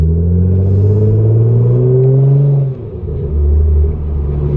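A Nissan GT-R R35 with an aftermarket exhaust burbles at low RPM, a deep, loud grumbling drone that rises slightly, dips, then settles back into a steady rumble.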